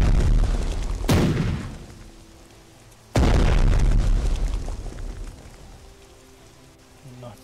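Two heavy booming cannon blasts in the video game Strategic Mind: Blitzkrieg, the first near one second and a louder one around three seconds, each trailing off into a rumbling, crackling decay.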